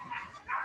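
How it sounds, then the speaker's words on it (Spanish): Dogs bark briefly in the distance, two faint yelps in under a second. "¿Qué les pasa a los perros?"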